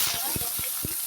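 Peanuts for tomato sambal fry in a pan with a steady, bright sizzling hiss. Soft low pops and taps from stirring come through close up, and no one talks.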